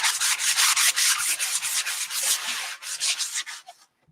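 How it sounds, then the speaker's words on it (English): Steady, close rubbing strokes of sandpaper over wood coated in white chalk paint, a rapid rhythmic scratching that carries on without pause and then stops abruptly. "that's why I put the white chalk paint down, because it's just easier to sand this."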